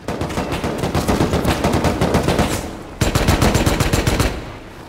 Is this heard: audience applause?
no